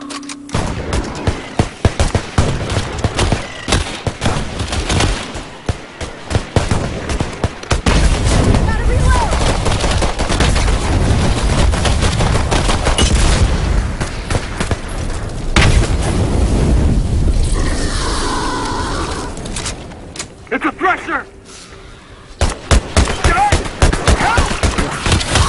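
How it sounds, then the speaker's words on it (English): Rapid bursts of combat rifle fire and booming impacts in the video game Earthfall, loud and sustained with brief pauses, while character voices shout intermittently over the shooting. "Hey! It's a combat rifle!"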